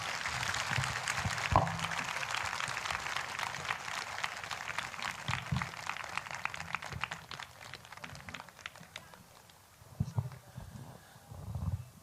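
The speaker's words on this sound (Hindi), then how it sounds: "आइए परमेश्वर को धन्यवाद दें जोरदार तालियों के साथ।" A prayer-meeting congregation applauds loudly, a dense, steady patter of clapping that runs for several seconds and thins toward the end, with voices mixed in beneath it.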